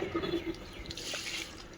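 Water poured into a container of soil for a home-grown peanut plant, a brief close splash and trickle lasting under two seconds with no talking.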